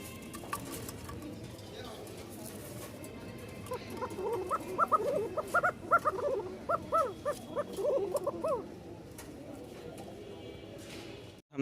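A pair of Kokar pigeons coo in a burst of repeated rhythmic calls in the middle of the stretch, fairly close over a low background hum, then fall quiet.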